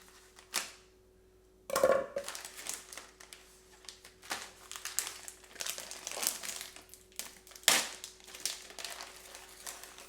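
Crinkly plastic snack packaging for Hattie B's Flock Nashville hot chicken chips being torn and pulled open, with a sharp rip followed by several seconds of close, loud crackling and crumpling.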